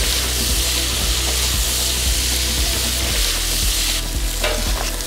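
Beef fillet and tomatoes sizzle loudly and steadily while browning in a hot pan, with a continuous frying hiss and periodic stirring scrapes and clicks, no voices.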